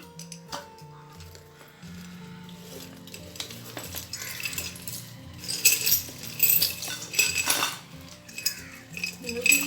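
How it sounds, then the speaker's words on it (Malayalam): Small keepsakes in a memory jar clink and rattle against glass as it is opened and handled up close, the jingling growing busier and louder toward the end. "അപ്പോൾ ഞാനെൻ്റെ മെമ്മറി ജാർ ഓപ്പൺ ചെയ്യുകയാണ്"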